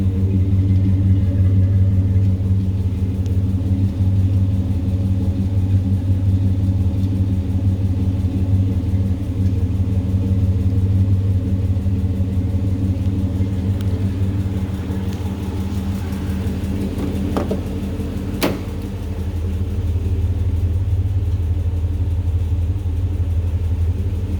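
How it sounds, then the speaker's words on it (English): A red 1954 Dodge Royal 500 pace car convertible with a Hemi V8 idles steadily up close, a loud continuous low rumble that holds even, with a brief sharper rise near the end and no talking over it. "Nothing like the sound of a Hemi."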